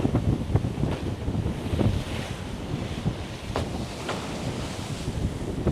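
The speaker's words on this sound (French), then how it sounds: "Alors pas beaucoup de vent aujourd'hui, 10 nœuds de vent" Steady wind of about 10 knots rushing over open sea, with waves washing and splashing around a sailing boat and occasional brief knocks, continuous and fairly loud throughout.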